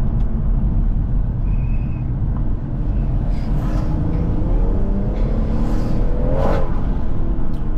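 A BMW M140i hot hatch with its B58 engine pulls hard in traffic, a loud continuous drone with rising revs near the end, heard close from inside the cabin with no talk.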